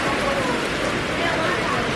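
Heavy rain pouring down in Charleston, South Carolina, a dense, steady hiss of drops hammering on surfaces close by, unbroken and loud for the whole stretch.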